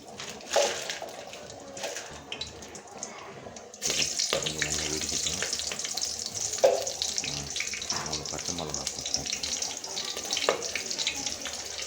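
Cinnamon, cloves and bay leaf crackle in hot oil for prawn biryani, a steady hissing sizzle that turns louder and fuller after a short pause, with occasional clinks.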